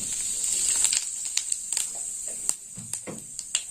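Cumin seeds temper in hot oil, crackling and popping in quick irregular bursts over a thin, bright sizzle, close and fairly quiet.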